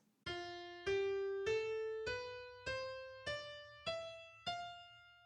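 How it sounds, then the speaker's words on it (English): Eight clear, evenly spaced tones climb step by step in an ascending Lydian scale, each note ringing and fading before the next, soft and close. "The Lydian mode sounds like this."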